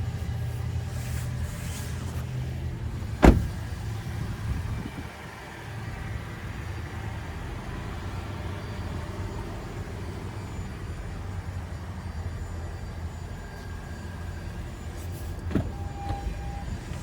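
Power passenger seat motor adjusting in a 2021 Toyota Venza XLE AWD, a low steady electric whir heard inside the cabin with a couple of sharp clicks, no talking.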